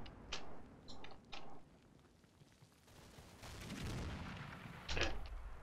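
Artillery fire in the video game Combat Mission: Battle for Normandy: three quick muffled booms early, then a rumbling swell and a louder blast near the end, faint overall.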